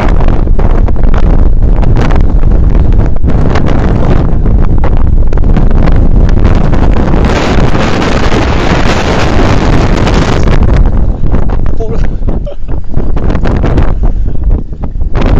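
Loud, roaring wind buffets the microphone without letup while fishing outdoors, a heavy rumbling gale that drowns out everything else.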